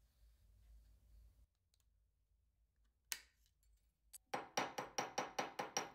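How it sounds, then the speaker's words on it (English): A small metal shim cut from shim stock is tapped flat with a hammer in a workshop while a belt grinder is built. After a single sharp strike, a rapid run of about eight crisp, evenly spaced metallic taps rings out close by, with no talking. "Tapped it flat and tapped the end over."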